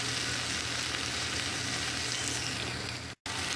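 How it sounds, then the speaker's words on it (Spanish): Chorizo fries in a pan with a steady, dense sizzle that holds loud and close throughout, broken only by a split-second dropout near the end. "Acá yo primero lo cocino en el medio porque me gusta que esté bien cocinado."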